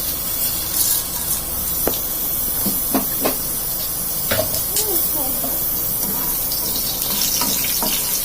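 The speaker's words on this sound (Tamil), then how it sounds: "எண்ணெய் ஊற்றினீங்களா கடுகு கொஞ்சம் போட்டுக்கோங்க. உளுத்தம்பருப்பு" Mustard seeds and urad dal crackle and sizzle in hot oil, a loud continuous hiss dotted with sharp popping clicks from the seeds, with speech mixed in.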